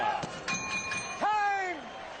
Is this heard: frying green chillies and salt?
no